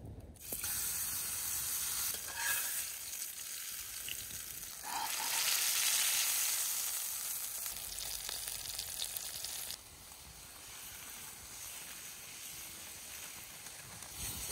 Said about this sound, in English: So now that I have a layer of grease in here, I will throw on the steak.